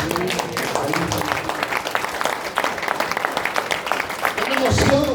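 An audience at a church gathering claps in steady applause, a dense patter of hands filling the room, with a voice speaking over it.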